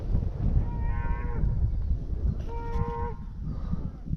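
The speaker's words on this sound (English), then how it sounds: "Oh, there's the cows." Cattle in a pasture give two drawn-out moos a couple of seconds apart over a low rumbling background of wind and handling noise, moderately close, with no speech.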